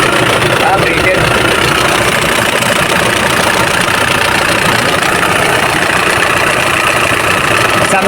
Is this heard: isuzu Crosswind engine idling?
yes